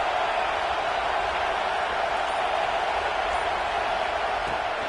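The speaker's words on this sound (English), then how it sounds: "Listen to this crowd just shaking the girders of this place, trying to help their defense." A packed stadium crowd at a Notre Dame football game roars in a steady, loud, unbroken wall of noise as the home fans try to rattle the offense on a key down.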